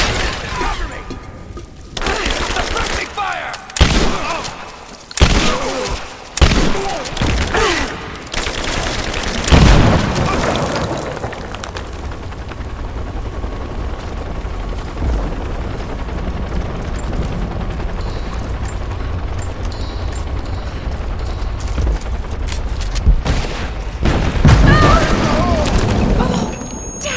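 Gunfire and explosions in the action game Rise of the Tomb Raider, with sharp bursts of shots and booming blasts early on, a long rumbling lull, then more loud hits near the end, and characters talking between them.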